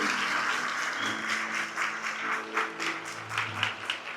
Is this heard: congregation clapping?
yes